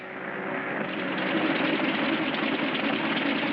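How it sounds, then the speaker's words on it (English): Aircraft engine with engine trouble drones steadily, a continuous rough broadband roar that swells slightly and holds at a constant loud level throughout, with no voices. "Engine trouble, sir. We'll have to go back to the field."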